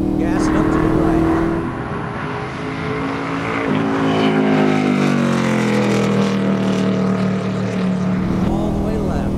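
Car engine on a driving course, steady drone rising and shifting in pitch as it accelerates, with an instructor's voice talking over it throughout.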